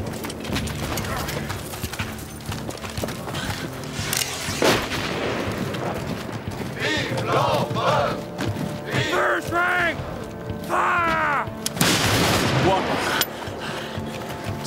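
Musket volleys crack through a Napoleonic-era battle scene against a French regiment, with sharp bursts of gunfire standing out over a constant din of shouting voices and galloping horse hooves.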